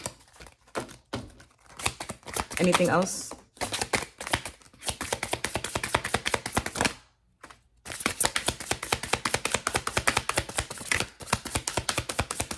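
A tarot card deck being shuffled close up, with rapid flicking and riffling card snaps in dense bursts across several seconds and a short pause midway. A voice speaks briefly.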